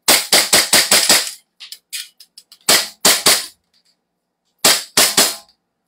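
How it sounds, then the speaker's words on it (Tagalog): A gas-powered pistol fires repeatedly nearby: a rapid string of five or six sharp cracks, a few fainter clicks and pops, then two shots, a pause, and two more, with no talk between them. "Okay, firing!"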